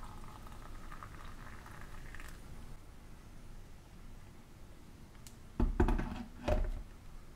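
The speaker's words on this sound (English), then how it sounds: "now I'm going to pour water into these." Hot water poured into tea cups, a soft, steady liquid rush with a bubbling patter, fairly quiet and close, followed near the end by a few brief louder clinks and splashes.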